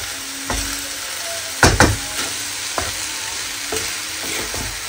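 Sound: food frying and being stirred in a pan

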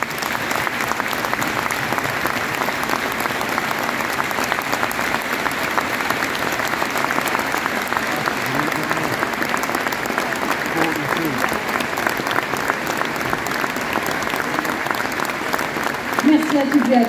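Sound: stadium crowd applause in tribute

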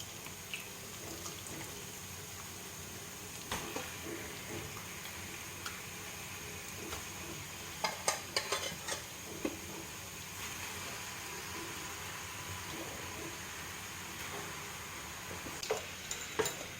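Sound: marinated chicken added and stirred in pan with onion and tomato

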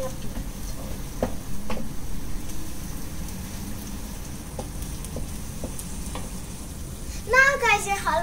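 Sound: stirring halwa batter with cashew nuts

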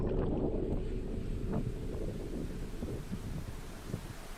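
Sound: rowing boat on a river, sound effect

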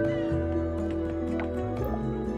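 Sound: cat meowing in the video game Coral Island

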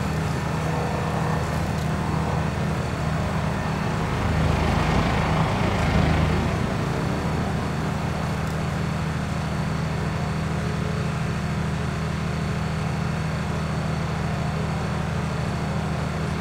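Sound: tractor engine straining under a full load, Farming Simulator 19 video game

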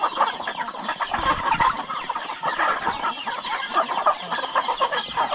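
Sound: chickens clucking

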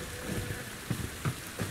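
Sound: wind and heavy rain in video game Bright Memory: Infinite

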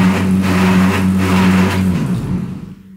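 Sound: tumble dryer making abnormal noise

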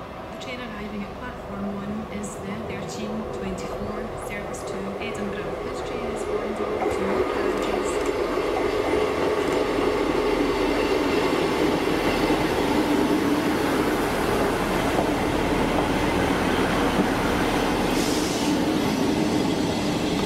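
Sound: ScotRail passenger train passing Dalmeny station

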